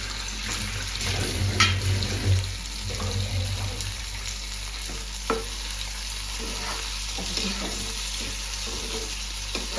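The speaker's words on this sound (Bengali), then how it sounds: "এরপরে টমেটো কুচানোগুলো দিয়ে দিলাম।" Chopped tomatoes go into a hot pan for a cauliflower roast, giving a continuous close sizzle with occasional stirring knocks and a low steady hum beneath.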